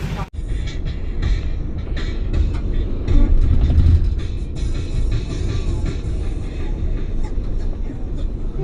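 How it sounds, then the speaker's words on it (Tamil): A passenger express train rumbles past close by in Karaikudi, India, a continuous low heavy roar with rattling and clanking, swelling briefly in the middle, while people talk over it. "ட்ரெயின் வந்துட்டு இருக்கு"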